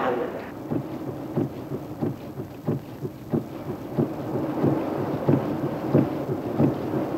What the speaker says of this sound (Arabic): المطره بتمطر والشمس طالعه.